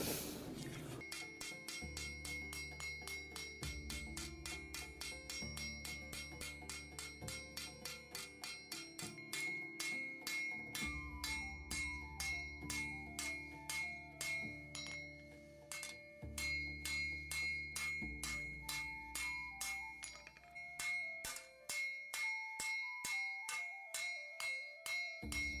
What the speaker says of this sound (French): vous voyez les petits coups de marteau qui sont donnés avec le marteau boule